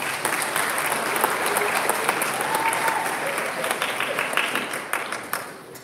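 An audience claps through a big round of applause at a high school Black History production, a dense, steady wash of many hands that thins toward the end.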